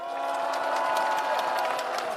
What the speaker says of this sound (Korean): 박수를 한번 크게 올려주십시오.